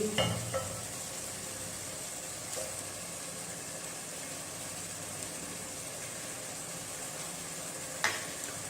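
Meat and tomatoes fry in a pan with a steady, even sizzle that lasts throughout, broken by a few faint clinks of stirring. No one talks.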